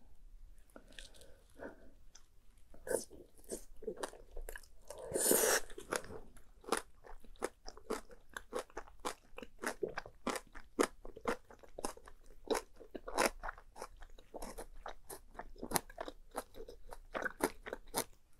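Close, crisp crunching and chewing of well-fermented green onion kimchi, repeated rhythmic bites and mastication over a quiet background, eaten alone with no talk.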